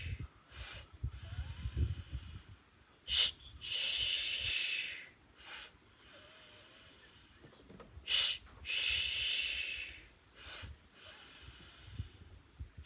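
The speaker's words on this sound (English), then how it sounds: "2-part inhale through the nose, 2-part exhale out the mouth." Rhythmic two-part breathing during a standing yoga energy practice: paired sharp nasal sniffs in, then paired airy exhales out the mouth, repeated in close, loud cycles with no talking.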